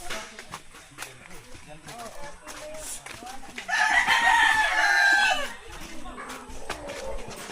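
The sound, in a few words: chicken, rooster crowing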